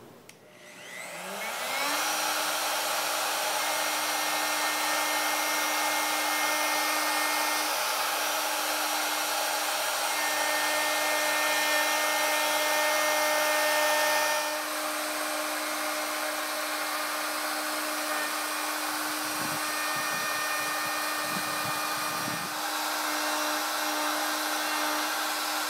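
A wood router set to 18,000 RPM spins up with a rising whine and then holds a loud, steady high-pitched drone, with brief changes in load near the end as it makes cuts in cherry wood.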